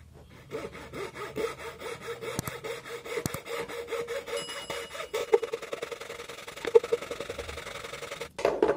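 A jewellery saw cuts through a piece of wood in steady, rhythmic back-and-forth strokes, close and continuous with no talking.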